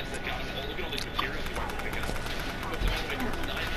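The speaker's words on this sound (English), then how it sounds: "Who's shooting?" Gunfire in a multiplayer shooter video game, with scattered shots and bursts going off under continuous voice chat, a couple of sharper reports standing out briefly.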